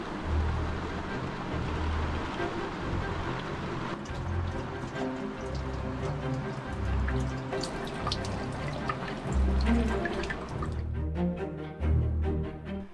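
Water drips steadily and softly, single drops falling at irregular intervals over a low background rumble.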